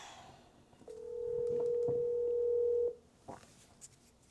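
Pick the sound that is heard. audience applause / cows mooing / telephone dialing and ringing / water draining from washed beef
telephone dialing and ringing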